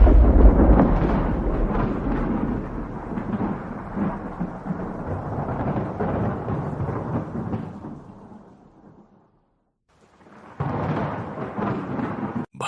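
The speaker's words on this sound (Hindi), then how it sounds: "भयंकर तूफान जो शहर को तबाह करने की कगार पर था, अचानक रुक गया" A thunderstorm sound effect with heavy rolling thunder and rain, loud and rumbling for about nine seconds, fading to a brief silence, then surging back abruptly.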